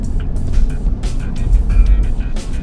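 A 2015 Toyota 4Runner TRD Pro weaves through a cone slalom at about 20 mph, its engine and road noise a steady loud rumble heard from inside, with brief swells as it turns.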